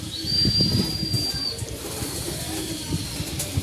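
Blue bar and checkered racing pigeons coo in low, soft murmurs close by, mixed with rustling and a faint high whistle, no speech.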